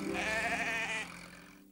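Sheep bleat in a farm garden in a children's animated series, one drawn wavering call up close that fades into a quieter tail, no talk over it.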